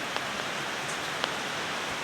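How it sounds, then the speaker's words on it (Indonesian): Heavy rain pours down in a steady, even hiss, with a few faint isolated drips standing out now and then and no voices. "Air hujan sepertinya cukup kencang"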